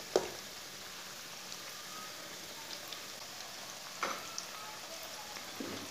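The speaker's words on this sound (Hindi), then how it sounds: "पकौड़े को 2 मिनट के लिए पकने देंगे, इसे मीडियम आंच पर पकाना" Cabbage pakoras deep-frying in oil on medium heat give a faint, steady sizzle with a few soft pops and crackles throughout; no talking.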